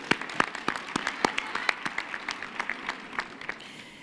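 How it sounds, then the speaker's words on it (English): Applause at a university graduation ceremony comes as distinct, spaced handclaps with a thinner spread of clapping underneath, moderately close, tapering off toward the end. "So I think we can also give her a very warm hand of applause."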